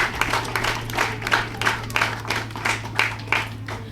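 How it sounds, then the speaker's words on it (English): Outdoor applause at a military passing out parade rolls in uneven waves of clapping from a crowd, moderately loud over a steady low hum. "I want us to give them a round of applause in appreciation of their"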